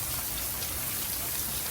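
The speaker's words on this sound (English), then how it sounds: "Pouring down." Heavy rain pours down steadily during a storm with strong straight-line winds, a dense, continuous hiss of downpour filling the whole moment without any voices.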